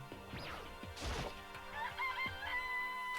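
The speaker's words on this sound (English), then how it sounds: "This place even has chickens, huh?" In the video game Danganronpa: Trigger Happy Havoc, a game chicken crows and clucks over background music, with a sharp crash-like hit near the start, moderately loud.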